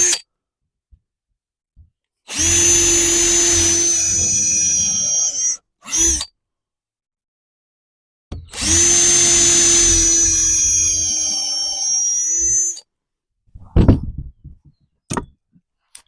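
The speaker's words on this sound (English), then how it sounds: "I want you guys to see this, how we drill these holes" Power drill boring holes through wood for a DIY target stand, two sustained whining runs of a few seconds each with a brief burst between, close and loud, followed by light handling clatter.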